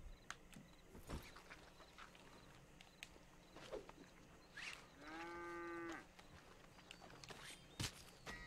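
In the video game Red Dead Online, a single cow gives a clear, sustained moo that stands out from faint scattered clicks and quiet footsteps.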